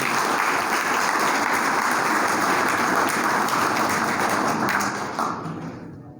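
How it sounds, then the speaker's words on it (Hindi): Steady crowd applause, dense and continuous, clapping filling the space for several seconds before tapering off at the end. "एक बार जोरदार ताली गणेश भाई के लिए"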